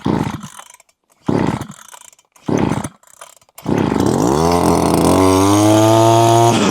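A Vitals petrol brush cutter is pull-started in short bursts, then catches and runs, its small two-stroke engine roaring loudly and rising in pitch as it revs up close by.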